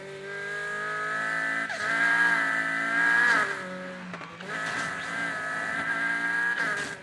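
A Honda Civic in the racing game NFS Heat slows under braking, its engine tone sweeping down with a brief squeal, then holding and dipping again, close and loud with no talking.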